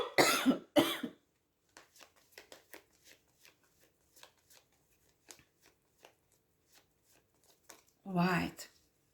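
A person coughs in loud, harsh bursts at the start and again near the end, with quiet card shuffling from a tarot reading in between.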